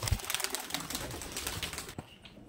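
Madras pigeons, green-eyed show birds, coo softly among a noisy flock, with a low thump and dense chatter throughout before the sound drops off near the end.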